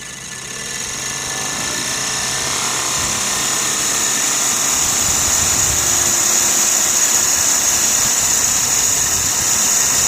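A Sirius steam engine generator runs with its boiler fired hard at about 80 psi, giving a steady close-up mechanical hiss and whirr that builds slightly and holds for the whole stretch with no talk over it.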